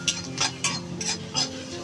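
Garlic, onion and green chili frying in oil in a pan while being stirred, with a spatula scraping and clattering in about five rhythmic bursts over a low, steady sizzle, close up and with no talking.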